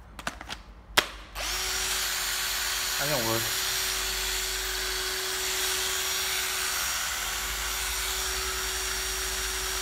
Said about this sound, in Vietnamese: một bộ máy khoan Hitachi 12V